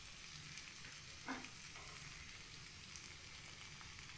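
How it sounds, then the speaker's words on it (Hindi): Red beans (lobia) fry lightly in a pan with a faint, steady hiss and crackle, quiet and even throughout, with one small clink near the middle. "देखिए हमारा लोबिया लाइट सा फ्राई हो रहा है"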